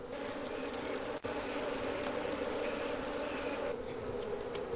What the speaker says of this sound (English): protected by hundreds of angry African bees.